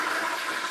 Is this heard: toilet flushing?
yes